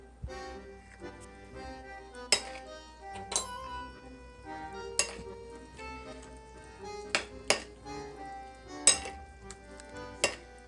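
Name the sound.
stirring apple coleslaw dressing in a bowl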